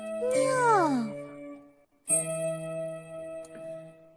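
A single drawn-out meow falls in pitch, followed by a sustained ringing tone.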